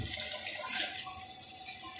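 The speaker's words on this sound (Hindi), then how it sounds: "ये 1 मग्गा है, तकरीबन 2 गिलास पानी होगा इसमें, ये मैं डालने लगी हूँ" Water from a mug of about two glasses poured into a pot of moong and masoor dal, a steady close splashing pour lasting throughout.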